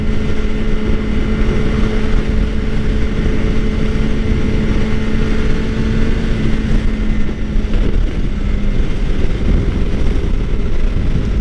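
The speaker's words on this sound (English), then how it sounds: "today I'm riding the GSXR" A 2013 Suzuki GSX-R 600 motorcycle cruising on a highway, its engine a steady loud drone mixed with heavy wind rush across the microphone throughout, with no speech.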